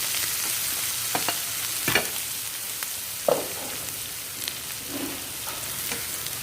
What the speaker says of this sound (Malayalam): ആ എണ്ണയ്ക്ക് തന്നെ മുളകും ഉള്ളി ഇട്ട് കൊടുക്കട്ടെ